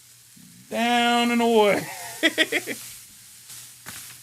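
Ribeye steak sizzling on a grill, a sudden loud hiss that starts as the meat goes down and holds steady, with someone speaking briefly over it and a few sharp clicks as the sizzle fades.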